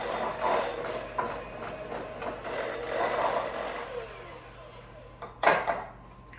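An electric mixer whirs through a cheese filling for Danish pastries, its motor rising and falling with scraping against the bowl, ending in a brief louder clatter.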